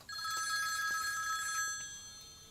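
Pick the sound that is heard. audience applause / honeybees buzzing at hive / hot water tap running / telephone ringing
telephone ringing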